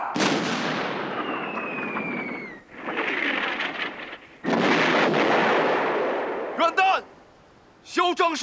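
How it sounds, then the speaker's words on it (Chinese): A warship's forward main gun fires in a film battle scene, with heavy booming blasts and long rumbling roars in several bursts, followed by brief shouted voices near the end. "前主炮。"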